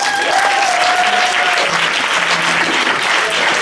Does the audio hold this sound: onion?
no